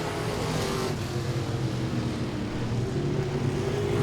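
Modified race cars lapping at Langley Speedway, a dense, continuous engine roar at steady loudness with no break.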